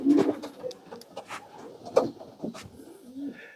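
Pigeons coo softly in a loft of racing birds, low murmuring calls with a few brief louder bursts scattered across the moment, close by and with no talk over them.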